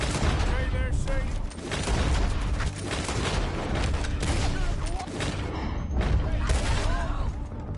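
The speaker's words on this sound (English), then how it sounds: "Told you I could shoot a gun, didn't I?" Dense gunfire from a Red Dead Redemption firefight, with rapid loud shots and bursts crackling almost continuously throughout, mixed with game voices shouting.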